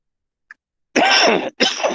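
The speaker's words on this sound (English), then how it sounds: "sorry about the coughing." After a faint click and a short silence, two harsh coughs ring out close up, one right after the other.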